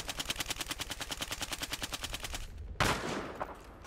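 Rapid automatic gunfire aimed at a helicopter in the video game Battlefield, a fast even burst of loud shots for over two seconds, then a sharp blast and a fading rumble.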